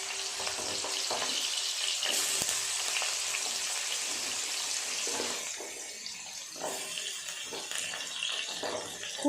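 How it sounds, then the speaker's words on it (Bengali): Moringa drumsticks and potato pieces frying in hot oil, a dense continuous hiss and sizzle up close that eases slightly toward the end, with a few faint knocks and no speech. "ডাঁটা, আলু দিয়ে দেবো তেলের ওপর।"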